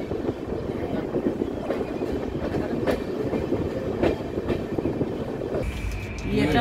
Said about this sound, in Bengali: আমাদের ট্রেনটা এসে ক্রস করছে অযোধ্যা ধাম জাংশন দিয়ে।